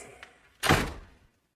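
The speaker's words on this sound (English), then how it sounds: "The door opened and Belinda came in with the tea." A door swings open as a sound effect in an English graded-reader audio story: one short, full burst with a soft thud that fades over about half a second, heard alone after a faint click.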